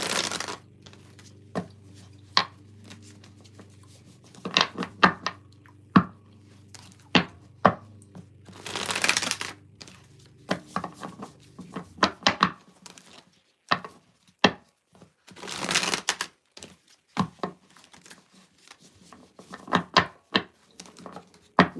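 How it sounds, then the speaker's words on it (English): A deck of tarot cards is shuffled in bursts, with riffling and tapping clatters followed by quiet pauses and soft handling noises, close and clear with no talk. "One more shuffle here."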